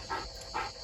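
Django, a pet dog, gives two short, soft whimpers close by, with quiet room noise between them.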